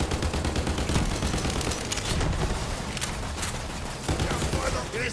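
Turret gunfire rattles in rapid bursts in the video game Borderlands 3, dense and loud, with gunshot cracks and booms layered over one another and a voice speaking now and then.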